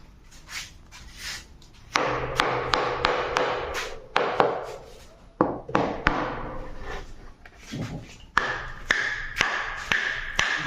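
Nails are hammered to join three wooden boards side by side, sharp tap-and-thud strikes coming in irregular bursts of several blows, close and loud, with brief pauses between groups.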